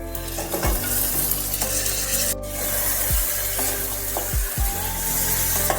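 Fried chicken pieces dropped into sizzling masala and stirred, a loud steady fry with repeated scraping and rubbing strokes of a spoon against the pan, close up and without talk.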